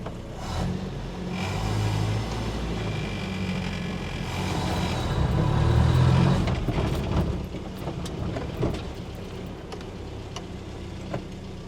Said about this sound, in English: The car driving up a little hill in high range, four-wheel drive.